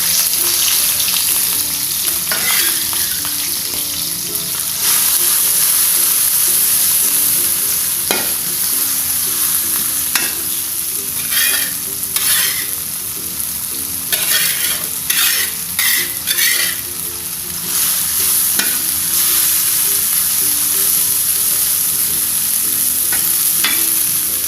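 Spice paste for gulai ikan kakap frying in a pan while being stirred, a loud steady sizzle with repeated scraping strokes and small clinks of the utensil, no talking.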